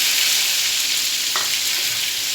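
Steady, loud sizzling of ginger frying in hot oil, constant hiss throughout with a brief crackle partway.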